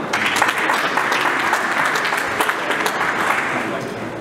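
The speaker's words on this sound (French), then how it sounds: "Je vous demande d'applaudir monsieur Paul Rivet." An audience at a conference applauds as a speaker on CO2 as a natural refrigerant fluid is introduced, giving steady, dense clapping throughout at a moderate, even level.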